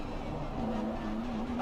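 A Lamborghini drives past with a steady, droning engine hum that holds for the whole moment, a voice talking over it.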